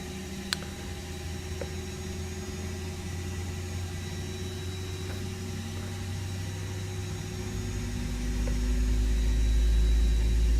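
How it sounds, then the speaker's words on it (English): Engine 1 of an Airbus A320 spools up from the cockpit, a steady hum and whine that grows into a louder low rumble near the end, with no talk. "Starting engine 1."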